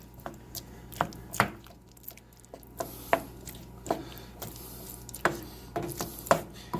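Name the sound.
spoon stirring tofu into butter chickpea curry sauce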